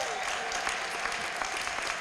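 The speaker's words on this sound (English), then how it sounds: "Give him a rousing round of applause." Audience at an Educator of the Year banquet applauding a 7th grader, a steady, dense wash of clapping filling the room for a couple of seconds, with voices faintly mixed in.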